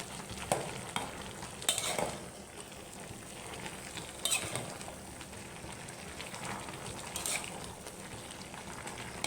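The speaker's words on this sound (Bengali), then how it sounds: "দেখি তরকারিগুলোর কি অবস্থা। একটু নেড়ে দিই উল্টিয়ে পাল্টিয়ে।" Vegetable curry sizzling in a pan while a spoon stirs and turns it, with steady crackling frying noise and a few sharper scrapes and clinks against the pan; no voices.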